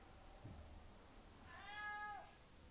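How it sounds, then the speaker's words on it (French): A single close, rising-then-falling cat meow indoors, faint and short, over quiet room noise. "Donc vous entendez mon chat miauler."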